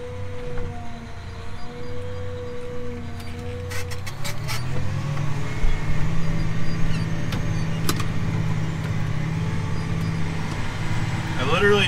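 Four-wheel-drive tractor pulling a chisel plow to work manure into a field: a steady engine drone that swells louder partway through and holds, with some clanking and a voice talking over it.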